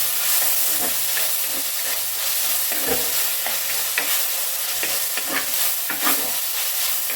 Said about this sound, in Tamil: இப்போ இந்த தக்காளி நல்லா மசிஞ்சு வர அளவுக்கு நம்ம நல்லா வதக்கி எடுத்துக்கலாம்